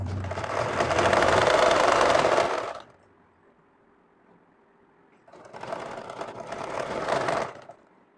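Sewing machine stitching a salwar, two loud, fast whirring runs of stitching separated by a pause with a soft motor hum, the second run slightly quieter and uneven.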